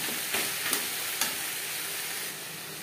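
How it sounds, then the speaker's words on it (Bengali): Chicken sizzles in a hot pan while it is stirred for chicken ghugni, a steady close frying hiss broken by a few soft scraping strokes. "দিয়ে দেবো চিকেন। চিকেন বেশ ভালো করে মিক্স করে নেব।"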